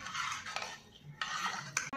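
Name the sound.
stirring turmeric into dal and rice with a spoon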